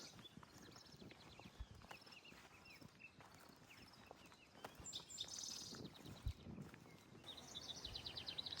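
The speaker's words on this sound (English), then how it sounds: "lots of birds." Birds chirp and trill at dawn near Devil's Tower in open country, high repeated calls from several birds at moderate distance over faint rustling and scattered ground noises.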